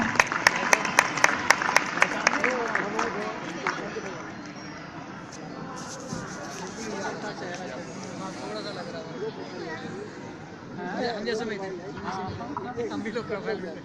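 Audience applause welcoming a guest at a school event, with sharp clapping bursts at the start that settle into a steady crowd murmur and clapping, with voices mixed in.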